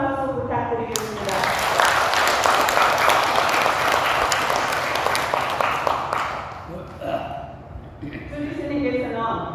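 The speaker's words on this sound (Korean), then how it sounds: "주지스님께 본문을 잘 해주시도록 큰 박수 부탁드리겠습니다" A temple congregation at a regular Buddhist dharma service applauds the head monk, with dense, sustained clapping filling several seconds before it thins out and a voice resumes.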